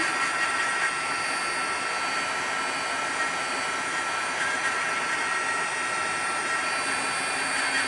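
A heat tool blows a steady, breathy whoosh close by for eight seconds, melting embossing powder stuck onto fusible webbing in a craft session, with no pauses or talk.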